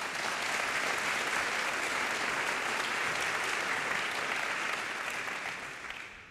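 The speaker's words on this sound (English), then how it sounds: "First, let's give a round of applause for AT&T and Kathy McKim." An audience at a civic volunteer event gives sponsors a sustained round of applause: a thick, even wash of clapping from a large crowd that fades slightly at the end.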